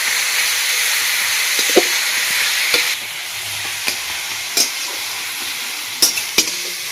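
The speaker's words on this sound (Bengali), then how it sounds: "তার পেঁয়াজটাকে ভালো করে নাড়িয়ে এটাকে ভেজে নিতে হবে।" Onions fry in a pan, giving a steady hissing sizzle that softens partway through, with occasional sharp clinks and scrapes of a spatula stirring them, close and clear.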